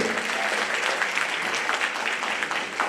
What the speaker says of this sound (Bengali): আপনাদের যদি আরেকবার ভালো লেগে থাকে আরেকটি জোর করতালি কি হবে?